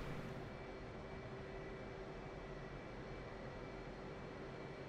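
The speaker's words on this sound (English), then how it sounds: "We're just checking out the airport as we're taxiing out now." Aircraft taxiing at an airport in DCS on the South Atlantic map, a steady broadband engine roar with a constant whine, continuous and fairly loud throughout with no talking.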